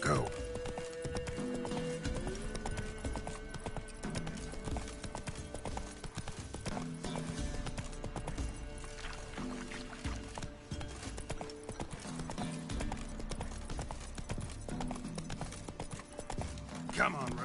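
Roach, the horse in The Witcher 3: Wild Hunt, galloping in-game with steady rhythmic hoofbeats and a whinny, under a continuous music score and occasional spoken lines.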